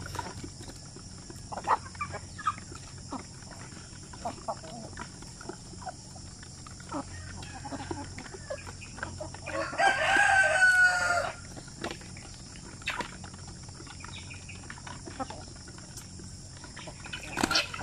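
Sampi native chickens clucking softly in a quiet yard, with a rooster letting out one loud crow near the middle among scattered faint clucks.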